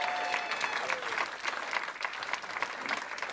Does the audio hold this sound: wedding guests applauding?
yes